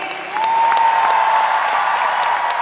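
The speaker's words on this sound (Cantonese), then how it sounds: "俾掌聲鼓勵佢。" Dense audience applause at a live concert in 2025, swelling in after a short lull and holding loud and steady, with a faint sustained tone running beneath the clapping.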